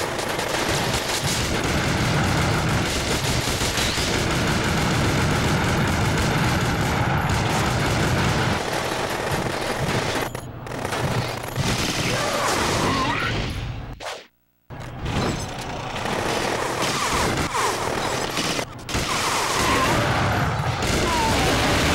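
Machine guns hidden in slot machines in the Gungrave: Overdose video game, sustained rapid bursts of loud gunfire with mechanical clatter, broken by a few short pauses and one near-silent gap midway before the shooting resumes.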